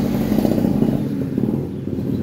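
A Yamaha NMAX scooter engine, repaired after running very rough with a rice-mill-like grinding noise, idles close by in a steady, dense low rumble with a faint clattering texture and no talking.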